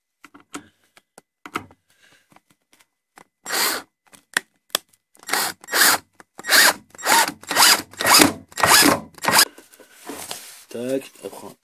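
A power drill drives a screw into a small wooden support on a beehive: faint taps at first, then a run of about a dozen short, close whirring bursts in quick rhythm.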